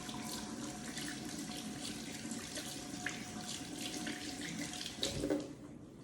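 Hands are washed under a running tap, water splashing steadily at close range for several seconds, with small shifts in the flow as the hands move.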